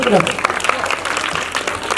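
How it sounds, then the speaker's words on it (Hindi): Audience applause at a religious katha gathering, a dense burst of clapping heard close and fairly loud, with a voice talking briefly at the start. "ताली तो बनती है, जोर से ताली बजा दो"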